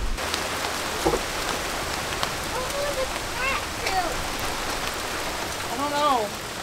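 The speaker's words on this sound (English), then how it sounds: "the rain's coming down" Rain falls steadily outdoors at a home building site, an even hiss of drops throughout, with a few birds chirping faintly behind it.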